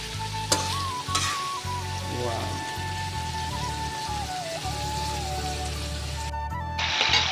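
Crushed onions sizzle and fry in a pan for chicken curry, stirred now and then, with a steady close crackle and scraping throughout and a faint tonal hum running beneath; no one speaks.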